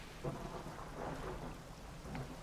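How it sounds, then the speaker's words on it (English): Approaching thunderstorm in the fishing game Dredge: steady rain hiss with soft low rumbles of thunder rolling underneath, no voices. "there's a storm approaching"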